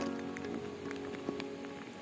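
Steady rain patters on surfaces outdoors on a wet day by the sea near Vladivostok, a dense, even hiss with scattered drops and no voices.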